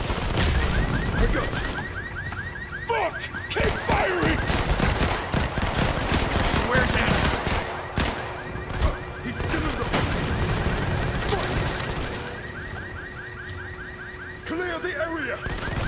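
Sustained automatic gunfire in the mobile shooter Modern Combat 5: Blackout, with rapid bursts of shots and a repeating warbling alarm-like tone over a loud, busy battle mix, with no talking.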